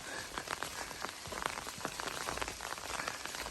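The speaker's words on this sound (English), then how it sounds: "Here comes the rain." Rain falls on the Appalachian Trail with a steady patter of drops striking surfaces, a dense crackling wash of moderate loudness and no voices.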